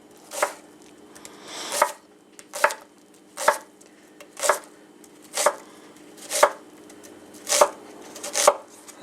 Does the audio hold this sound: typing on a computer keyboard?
no